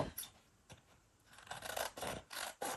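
Scissors trimming around a paper journal card, close, quiet rasping snips in short uneven bursts, with a few sharper cuts standing out.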